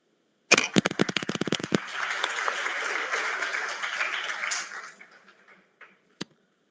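A burst of sharp individual claps swells into full applause from an audience at a BTech orientation programme, then fades away, ending with one last clap.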